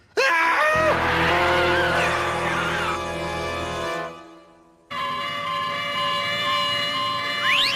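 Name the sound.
ambulance sirens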